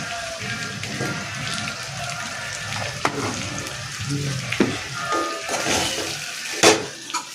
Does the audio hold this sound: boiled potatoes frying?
yes